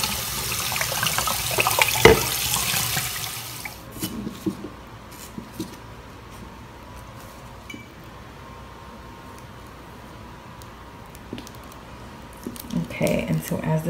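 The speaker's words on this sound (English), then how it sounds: "I'm going to wash this off" Running water rinsing etched cameo glass: a loud rushing wash at first that drops to a faint trickle with occasional clinks, then swells again near the end.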